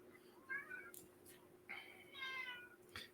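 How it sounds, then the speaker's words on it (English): A cat meows several times, faint and somewhat distant, in separate drawn-out cries spread across a few seconds over a quiet background with a low steady hum. "Cat."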